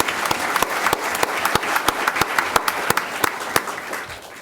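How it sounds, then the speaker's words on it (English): School board meeting audience applauds a young student, a dense wash of clapping with several sharp, regular claps standing out close by, loud and steady before easing slightly at the end. "Give her a round of applause"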